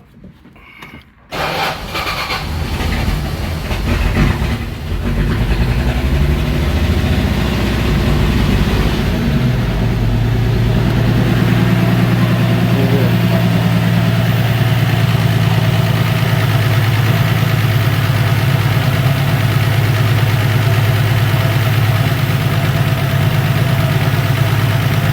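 A 1974 Plymouth Duster that was flooded and has a newly fitted carburetor cranks and starts after a short quiet moment, then settles into a loud, steady, slightly rough idle that runs on alone.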